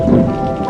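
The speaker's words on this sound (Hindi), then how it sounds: "तभी एक जोर की बिजली कड़कती है" Steady heavy rain with a loud rumbling thunder crack, a short dense burst heard alone without voices.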